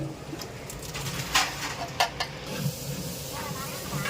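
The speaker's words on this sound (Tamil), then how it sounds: "இப்போ நமக்கு கட் பண்ண தக்காளியை போட்டுடலாம்" Chopped tomatoes going into a hot pan for a large batch of temple vegetable biryani, giving a hissing, steamy sizzle with a few sharp bursts of spatter while someone talks.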